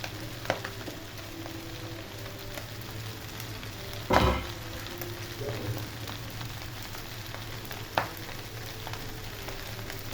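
Beef and scattered egg stir-frying in a pan for hakka noodles: a steady, close sizzle runs throughout, broken by a few sharp utensil knocks and scrapes against the pan.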